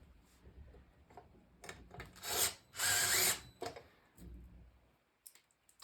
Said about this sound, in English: Let me go grab my little drill so I don't have to do this all by hand.